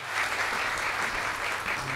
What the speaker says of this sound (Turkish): güçlü alkışlarınızla sahneye davet ediyorum